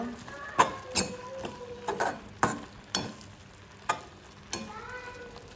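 Utensil stirring and scraping a coconut burfi mixture in a sizzling pan, with irregular knocks and scrapes every second or so over steady frying hiss.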